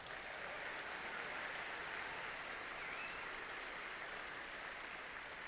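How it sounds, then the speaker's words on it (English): Faint, steady audience applause fills a large arena at a FIRST robotics state championship, an even distant wash of clapping with no break. "Let's give them a round of applause."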